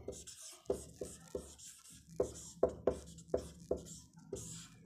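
Chalk or marker strokes on a board during a maths lesson, a run of brisk taps and scrapes in uneven rhythm, close and fairly clear, with little talk over them.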